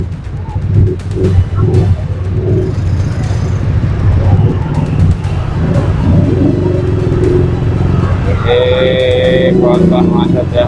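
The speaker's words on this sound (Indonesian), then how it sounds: "Jadi kondisi macet nih, nggak bisa lewat, tuh kondisi macet." Cars and motorcycles sit jammed on Jalan Sukatani near a pontoon crossing, a close low engine rumble with idling and a horn toward the end, under someone talking throughout.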